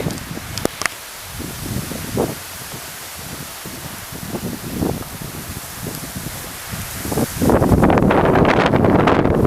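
Strong wind on a mountaintop at Sleeping Giant Provincial Park, Ontario, buffets the microphone in rumbling gusts, rising to a loud, sustained roar near the end.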